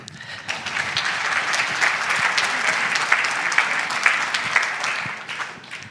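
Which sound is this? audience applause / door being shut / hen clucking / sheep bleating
audience applause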